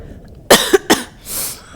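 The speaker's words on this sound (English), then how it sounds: "I just like coughed a spit wad all over the goddamn table" A person close to the microphone gives a sudden harsh cough followed by two quicker coughs, then a short breathy exhale, in a quiet indoor room.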